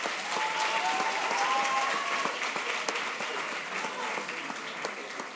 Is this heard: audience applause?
yes